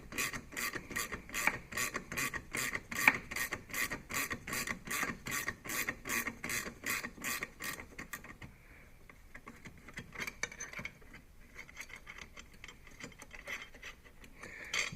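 Ratcheting 10mm wrench clicking steadily as the steering linkage is unbolted on a Sea Doo Spark personal watercraft, a fast even run of close ticks for about eight seconds, then quieter rustling and handling noise.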